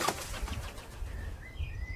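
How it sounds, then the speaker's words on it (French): A bird bursts into flight on a mountainside, wings flapping in a quick flurry of soft beats, followed by faint thin calls in the background. "Un oiseau s'envola brusquement dans les murmures de la montagne de Peterboth."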